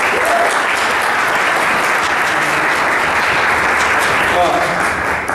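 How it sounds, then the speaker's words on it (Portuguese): Sustained audience applause at a comics festival panel, a dense, loud wash of clapping from a crowd that holds steady for several seconds and eases slightly at the end. "uma salva de palmas"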